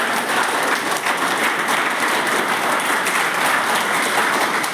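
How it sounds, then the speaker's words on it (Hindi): Sustained applause from an audience at a Mission IAS Amaravati event in Ranchi, Jharkhand, a dense steady wash of many hands clapping at even loudness for almost five seconds, with no voices over it. "रविंद्र सर के लिए तालियां बजाइए।"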